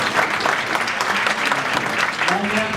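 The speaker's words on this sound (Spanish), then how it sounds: "Quiero que le demos un gran aplauso a nuestra mesa que tiene la primera conferencia." Audience applause at a conference, a dense steady patter of many hands clapping throughout, with voices mixed into the crowd.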